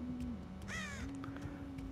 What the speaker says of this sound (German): Ich bin voll der Krähe erschrocken.